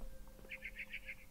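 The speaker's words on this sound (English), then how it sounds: "It was a barn swallow going back to her nest." A barn swallow in the video game What Remains of Edith Finch gives a quick run of five faint, evenly spaced high chirps over a quiet background hum.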